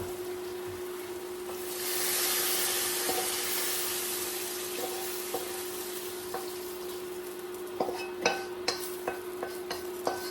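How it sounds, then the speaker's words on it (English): Stir-fried shrimp or prawn noodles with vegetables being stirred with chopsticks: a burst of sizzling hiss fades into a quieter background, followed by scattered light taps and clicks near the end. "You're supposed to stir with chopsticks."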